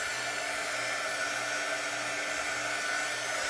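A hair dryer runs steadily, blowing to dry paint on a rustic wooden round; a continuous close, loud whirring hiss with no pauses and no talking.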